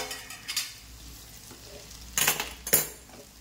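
A utensil scrapes and stirs vegetables steaming in a pan over low heat, with a faint sizzle beneath two or three sharp clatters of metal against the pan.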